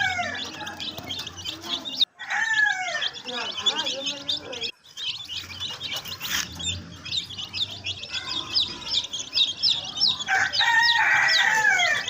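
A flock of young Sebright bantam chicks, about six weeks old, chirps and peeps in dense, continuous, overlapping calls close by.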